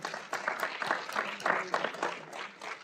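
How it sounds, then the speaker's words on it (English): A small audience at a community panel discussion on Black history in Annapolis gives a short round of applause, the claps soft and fairly distant and rising and falling unevenly. "One more round of applause"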